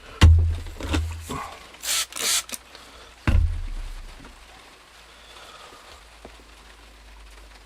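A Schrade Frontier SCHF 42D knife is sharpened on a stone: a few rasping, gritty strokes come in quick bursts early on, then the scraping turns softer and quieter, close up with no voices.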